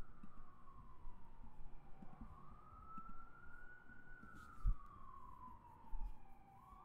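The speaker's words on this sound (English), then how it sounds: "You can hear that ambulance in the background." A faint, distant ambulance siren slowly rises and falls in a long wail, heard over low background rumble with a couple of soft thumps.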